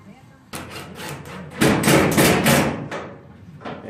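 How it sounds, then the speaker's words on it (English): Sharp metallic hammer blows ring out, a few spaced strikes and then a quicker run of loud hits on a dented rear quarter panel of a 1968-72 car, close by. "I have to hammer that out a little bit because it dented up"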